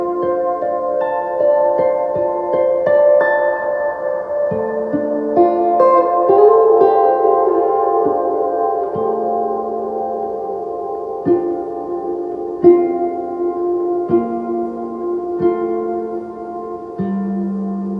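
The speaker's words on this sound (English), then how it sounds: "So we went through my first delay, my big reverb, and then after my big reverb, I have my big delay." An electric ukulele played through delay and reverb effects rings out in clear plucked notes and chords, each trailing long echoing repeats and a washy sustained tail, with no talking.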